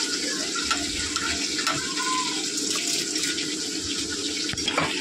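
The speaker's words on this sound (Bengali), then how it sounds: "এবার ধুয়ে রাখা চালটা দিয়ে দেবো।" Washed rice tipped into a cooking pot for a Lakshmi Puja meal, giving a steady, close watery pouring and splashing that runs without a break.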